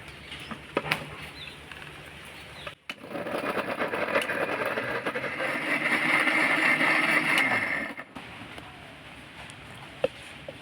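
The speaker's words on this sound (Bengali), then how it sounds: "তো দেখুন আমি মিষ্টি জারে ঘুরিয়ে জুসটা বের করে নিয়েছি" A kitchen mixer grinder whirs as it blends fruit into a thick paste for ice cream without water, a steady motor drone of about five seconds that starts abruptly and cuts off, with quieter clatter before and after.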